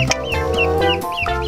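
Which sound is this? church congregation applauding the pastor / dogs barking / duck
duck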